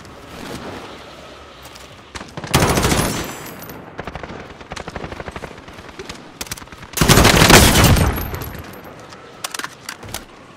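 Rapid automatic gunfire in a video game, scattered single shots punctuated by two loud, dense bursts of sustained fire a few seconds apart.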